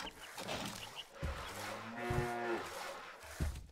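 Cattle mooing in the PC strategy game Stronghold: Definitive Edition, a couple of drawn-out, tonal moos over a busy backdrop of game ambience and clatter, fairly close and clear.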